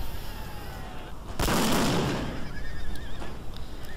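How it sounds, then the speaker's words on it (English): Artillery fire in a Prussia versus United States battle in Empire: Total War: one loud, booming cannon blast midway with a long rumbling tail, over a quieter battlefield backdrop. "So what we saw over there was artillery."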